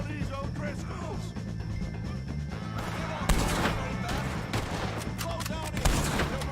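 Gunfire during a shootout with O'Driscoll gang members in Red Dead Redemption 2, scattered shots and booms over a rumbling background, with game characters shouting at moments.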